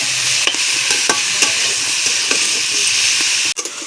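Cabbage with rohu fish head and potatoes sizzles in hot oil while a spatula stirs and scrapes the pan, steady frying hiss punctuated by regular clicks and a sharper knock near the end.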